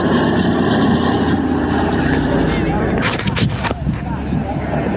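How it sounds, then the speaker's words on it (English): A propeller airplane flying over the Cleveland air show, a loud steady engine drone with a brief burst of louder noise midway, while people talk nearby. "We got another plane right here."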